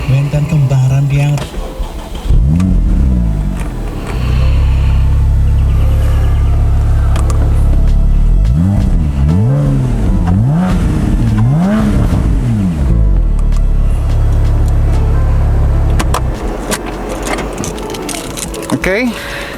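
Porsche Boxster 987 from 2013 revving its engine, loud and close, with a steady idle drone broken by a string of sharp rising and falling throttle blips in the middle before settling back to idle.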